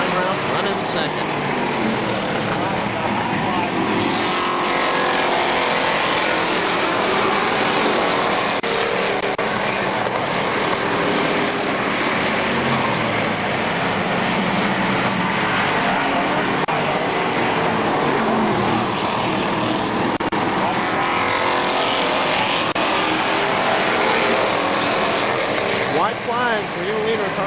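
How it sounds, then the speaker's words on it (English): Race cars circle KilKare Speedway, their engines roaring loudly and steadily the whole time, with passing swells, while an announcer talks over the track noise. "And coming out of turn number 4, your winner will be car number 6, Brian Roush."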